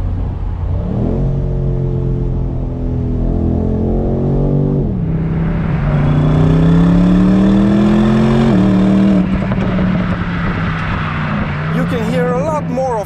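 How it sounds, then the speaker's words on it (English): A BMW M850i Convertible's engine and exhaust are heard from inside the cabin, loud revs climbing and dropping through gear changes, with crackles and pops in the exhaust note. "You can hear a lot more of the engine inside the cabin and a lot more of the crackles and pops of the exhaust as well"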